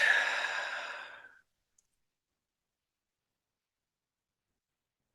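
A single long exhale during a guided morning meditation, a soft breathy release that fades out over about a second, followed by near silence with a couple of faint clicks.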